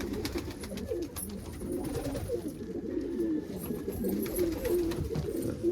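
Crested saddle pigeons, including yellow crested saddles, coo steadily inside a loft, a dense overlapping murmur of low rolling calls with a few sharper wing and shuffling sounds, close and continuous.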